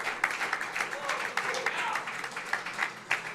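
A crowd at a pinball tournament final claps and cheers in a busy, sustained burst of applause, heard from a moderate distance with bright, scattered hand claps throughout.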